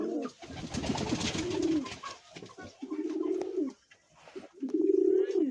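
King pigeons cooing nearby in repeated low, rolling phrases, with soft rustling and faint chirps between the calls.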